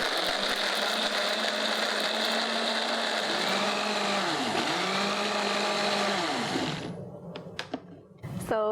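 A kitchen blender whirs steadily as it purees shallot, garlic and ginger with water, its motor dipping and surging in pitch a few times before cutting off, leaving brief clicks and clatter.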